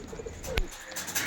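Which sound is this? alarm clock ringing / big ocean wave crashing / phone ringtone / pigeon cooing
pigeon cooing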